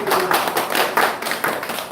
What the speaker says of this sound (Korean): 좋은 에너지를 주신 우리 강도사님께 큰 박수 부탁드립니다